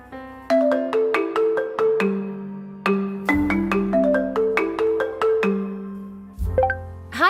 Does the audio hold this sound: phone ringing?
yes